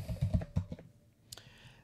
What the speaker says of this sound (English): So I'm just going to go open Discover and type in KRename.